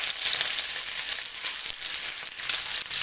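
Chicken wings frying in hot oil in a home kitchen, a steady close-up sizzling hiss with faint crackles, continuous and fairly quiet, with no voices.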